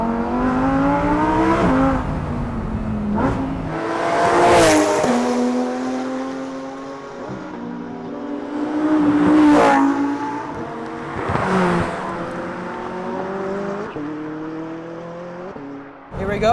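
Lamborghini Huracan STO on a racetrack in its standard driving mode, its engine revving hard through rising harmonic sweeps with sharp downshift blips, loud and close, while someone talks over it briefly.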